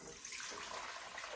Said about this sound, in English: I'm going to add 2 cups of warm water.